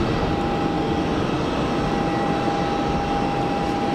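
Saudi Airbus A320 on final approach to Geneva Airport, a steady distant jet engine roar with a faint whine, even and continuous without pause.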